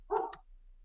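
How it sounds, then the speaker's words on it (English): A single dog barks once, a short, muffled double woof from another room, faint and over quickly. "sorry for the barking in the background"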